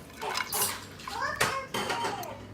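Water splashes and trickles in short bursts as a LOL Surprise doll is dunked to take in water, with brief sloshing and pouring sounds close by and someone talking in between.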